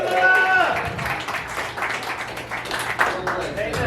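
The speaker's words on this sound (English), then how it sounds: "Round of applause for Zuma, if you would." A comedy showcase crowd in Oklahoma City applauds for comedian Zuma: a continuous wash of clapping and cheering close by, swelling and dipping, with a voice calling out over it.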